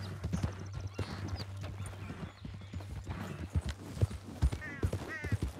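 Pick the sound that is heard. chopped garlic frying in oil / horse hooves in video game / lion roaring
horse hooves in video game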